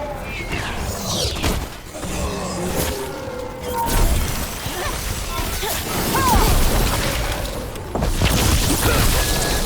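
Enemy gunfire and explosions in Dragon Age: The Veilguard, with crashing impacts and whooshes going on loud and continuous across the scene, with voices talking over the combat.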